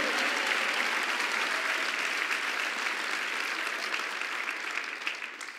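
A church congregation claps loudly and continuously, a dense, even wash of applause that holds strong for several seconds before easing slightly toward the end.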